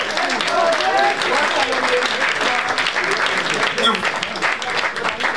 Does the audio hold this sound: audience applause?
yes